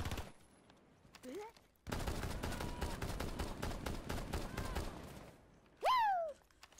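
Rainbow Six Siege firefight with a dense burst of rapid automatic gunfire lasting a few seconds, up close and loud, with short voice-like game sounds just before and after.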